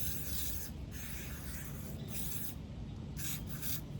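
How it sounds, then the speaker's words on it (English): Bug spray hisses from an aerosol can outdoors by a creek, several close, breathy bursts separated by short pauses, with rustling in between. "got the bug spray on."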